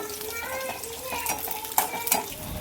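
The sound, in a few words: peanuts roasting with green chillies in oil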